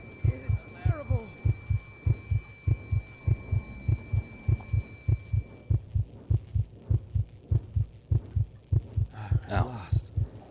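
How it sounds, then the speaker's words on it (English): Heartbeats in the video game Conarium pulse as a steady deep double-thump, loud and regular throughout, with a low hum and some faint voiced sounds over the top. "Those heartbeats."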